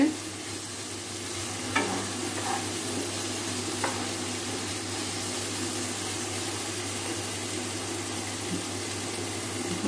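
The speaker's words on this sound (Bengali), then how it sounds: "এই যে মশলাটা কষিয়ে নিয়েছি ভালো করে।" Spice paste frying in a pan for prawn malaikari, a soft steady sizzle running throughout with a few faint clinks of stirring, close and fairly quiet.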